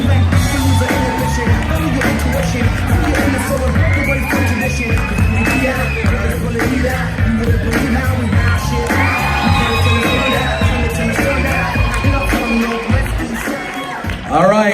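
A large audience at the 2018 Quest for Excellence program cheers loudly with whoops and shouts, a dense, steady roar of crowd noise lasting throughout and dropping off briefly near the end.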